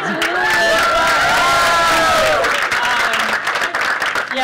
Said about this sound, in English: I should get a bigger clap for that.